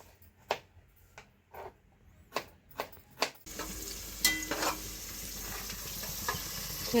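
Onions sautéing in oil for chicken biryani: a few sharp, separate knocks come first, then a sudden, continuous sizzle with light stirring takes over at close range.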